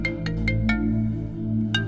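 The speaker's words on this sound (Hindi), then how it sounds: "ये परियों की कहानियों में से प्रिंस चार्मिंग का फोन आ रहा है" A phone ringtone signals an incoming call in a Hindi TV drama, with a few bright, short chirping tones repeating over a low, steady background score, and no talk.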